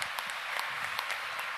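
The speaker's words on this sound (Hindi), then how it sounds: "आप सब तालियां बजाकर पूज्य ठाकुर जी महाराज का स्वागत करें।" An audience at the Bundelkhand Mahakumbh religious gathering applauds to welcome a guru, a brief steady patter of many hands clapping at moderate distance.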